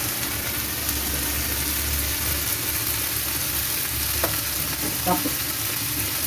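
Fish frying in a pan with turmeric powder added, stirred: steady close sizzle of hot oil, with a couple of sharp spatula scrapes and clicks near the end, no talking.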